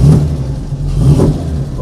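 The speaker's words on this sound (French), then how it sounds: "Le bouton de démarreur, vous voyez, c'est ce joli bouton en bakélite noir. Il suffit de faire une impulsion dessus." A Jaguar XK 140 engine, started with a black Bakelite starter button, runs loud and close with a deep throaty exhaust note, rising in two brief revs over a steady idle.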